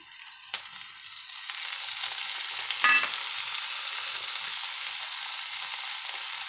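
Egg bhurji (scrambled eggs) frying in a pan: a continuous bright sizzle, close and steady, with a sharp knock near the start and a louder scrape of stirring midway.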